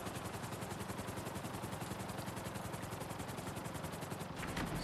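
A helicopter flies in GTA 5 Online, giving a loud, steady rhythmic rotor chop with a dense engine whine that holds level throughout, with no talk over it.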